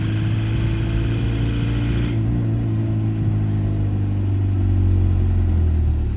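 A diesel engine swapped in as a TDI, held at full throttle, drones steadily and loudly with a deep, constant tone and no pauses, close up and running alone.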